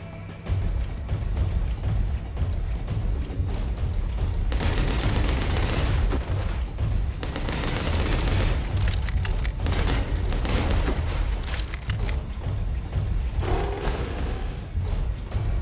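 Dense, continuous gunfire exchange in a shooter video game, with enemies firing back amid booms and mechanical clatter, loud and sustained throughout with no talk.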